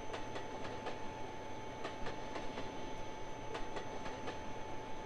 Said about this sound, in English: I just like driving trains, that's all.